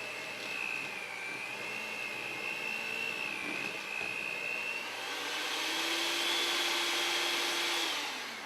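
Electric hand mixer, working again after a fault, whirs steadily at close range with a shifting high motor whine that climbs in pitch partway through, running alone without talk.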